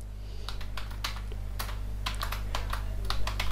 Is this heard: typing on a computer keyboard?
yes